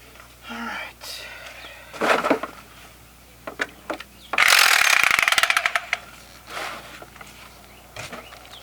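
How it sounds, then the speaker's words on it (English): A Sawzall reciprocating saw cuts into a 1979 Prowler camper in a single loud, rattling burst of about a second, surrounded by scattered clanks, handling noise and a faint voice. "So, this time for the Sawzall."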